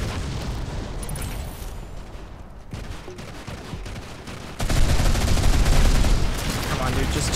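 Rapid automatic gunfire from a mobile shooter, Modern Combat 5, rattles in dense sustained bursts with occasional booms, loud and close, swelling louder near the end amid continuous battle noise.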